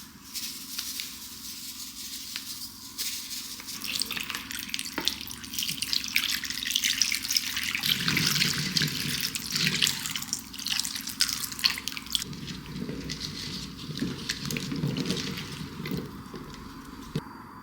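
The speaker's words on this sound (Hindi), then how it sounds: "अभी मैं इसको नमक के पानी से धोने वाली हूँ।" Raw jujube fruit being washed in salt water, with steady running and dripping water splashing over the fruit in a sink, continuous and close, with no talking.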